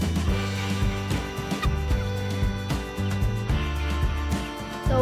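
Seven-week-old guinea fowl keep up a dense, continuous chorus of harsh, repetitive calls close by, steady and loud throughout, with no talking over it.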